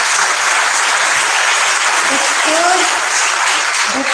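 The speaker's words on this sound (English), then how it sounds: "I have to bring it to here with a very warm and a loud applause." Loud, dense audience applause at a memorial lecture fills the hall continuously, many hands clapping at once, with faint voices mixed beneath.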